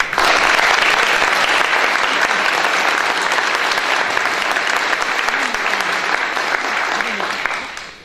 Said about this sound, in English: join me in thanking Janet with a round of applause